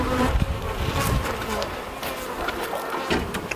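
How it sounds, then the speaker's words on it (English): Honeybees buzz loudly and close at a weakened hive that robbers may be raiding, a continuous dense drone with individual bees flitting past the microphone. "The bees that are in here might just be robbers"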